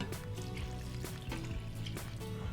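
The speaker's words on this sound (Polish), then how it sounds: "Tym roztworem zalewam ziemniaki." A brine of water and vinegar pours and splashes steadily over grated potatoes in a bowl, with a continuous trickling and a few brief splashy bursts, close up.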